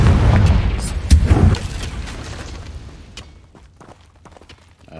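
A Confringo fire spell in the Hogwarts Legacy video game explodes with a loud, deep boom and rumble at the start, then the blast fades into scattered crackles and small clicks.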